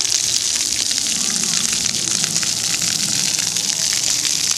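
Water splashing and gushing steadily in an outdoor fountain where a child runs through the spray, a continuous close hiss with faint voices in the background.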